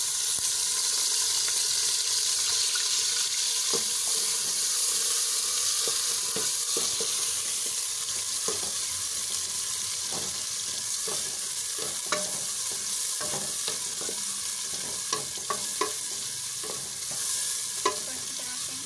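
Onions sizzle and crackle steadily in hot ghee, a bright continuous frying hiss broken by scattered pops and the clatter of stirring, with no voices.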